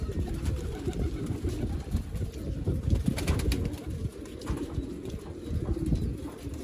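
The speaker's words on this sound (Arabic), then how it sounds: "ذني تور العراقيات" A flock of Iraqi pigeons coos continuously in a crowded aviary, dense overlapping low throaty calls with occasional rustling, close and steady throughout.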